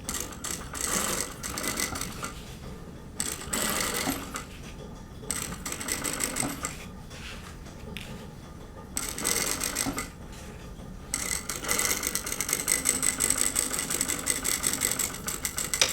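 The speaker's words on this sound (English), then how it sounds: "I'm doing an understitch. Starting from this end, back tack, moving the seam out" A sewing machine runs an understitch with back tacks, its motor whirring in bursts of a few seconds separated by short pauses, close and moderately loud.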